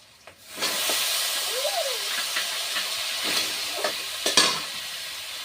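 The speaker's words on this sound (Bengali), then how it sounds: "পরিমাণ মতো পাঁচ ফোড়ন দিয়ে দিচ্ছি এবার ধোয়া আলুগুলো দিয়ে দিচ্ছি" Washed potatoes tipped into hot oil with five-spice seeds, a loud sudden sizzle that rises and holds as a steady frying hiss, with a few clinks and stirring sounds.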